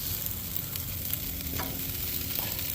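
Chicken kabobs with vegetables sizzle steadily on a grill, a continuous close hiss of cooking with faint scraping and clicks, and no talking.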